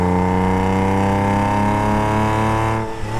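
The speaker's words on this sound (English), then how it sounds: "As it accelerates, it comes alive. And suddenly gets louder and louder, and it's sort of more roary inside" Porsche 911 996 engine accelerating, a loud, close, continuous roar whose harmonics climb steadily in pitch before easing off near the end.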